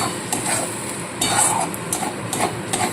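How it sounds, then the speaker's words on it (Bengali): Pointed gourd mash being stirred in a pan for Bengali potoler bharta, with sugar and salt just added; a spoon scrapes in repeated close strokes over a steady background hiss, with no talking. "এবার সমানে কিন্তু খুব ভালো করে নাড়তে হবে"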